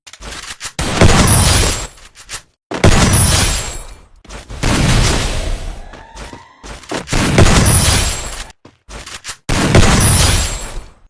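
Loud gunfire bursts in the mobile shooter game Free Fire, five rapid-fire volleys in a row separated by short silent gaps, with no voices.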